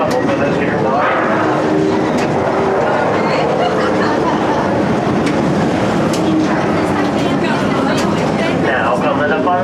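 A Knott's Berry Farm mine train ride rolls steadily along its rails, a continuous rumbling clatter of the cars heard up close beneath a narrator's voice and faint chatter from riders.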